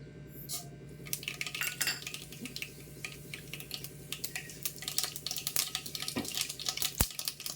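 Mustard seeds dropped into hot oil in a pan, crackling and popping in a dense stream of small sharp ticks, with a few metallic clinks of a utensil against the pan, close and fairly quiet, with no voices.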